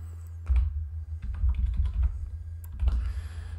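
Fingers type on a computer keyboard in a few quick bursts of clicks with short pauses between, close and clear, with no voices.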